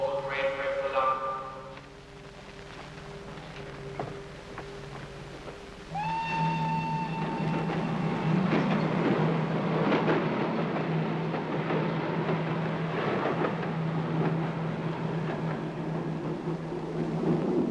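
A train idles at a railway station with a steady mechanical hum, then a long whistle sounds and holds while voices talk over the rumble.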